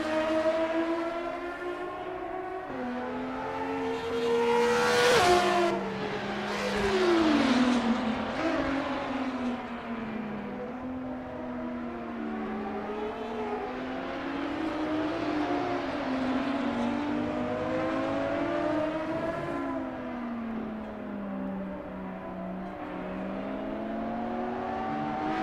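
GT race cars of the Assetto Corsa GTR Legends class on a warm-up lap at Brno, their engines droning and rising and falling in pitch as they shift gears, with several cars overlapping and one passing close and loud, without talking.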